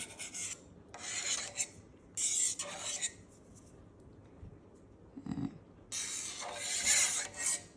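A knife slices through a block of feta cheese into cubes on a board, giving close, soft scraping cuts in short bursts with brief pauses between them.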